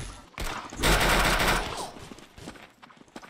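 Gunfire in the video game Arsenal: a sharp shot followed by a loud, dense burst of rapid automatic fire, then trailing scattered shots and clatter.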